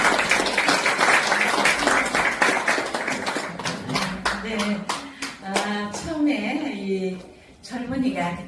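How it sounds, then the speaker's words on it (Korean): Audience clapping at a poetry recital concert in a Yeouido hall, a burst of hand claps in the first seconds that thins to scattered individual claps beneath a man's speech. "김소연 회장님 박수 한번 주시고 덕담 부탁드립니다."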